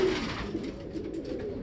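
Pigeons cooing close by in a steady, low, throaty murmur that runs through the whole moment, with no talk over it.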